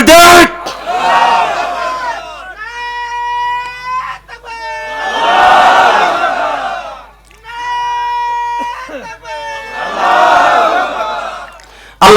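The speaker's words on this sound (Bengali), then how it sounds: "এই জন্য তাকবীর দিয়ে আরেকবার দেখাই" A large crowd at a religious gathering chants the Takbir, three massive roaring shouts in a call-and-response pattern, with a single voice leading between them over a loudspeaker.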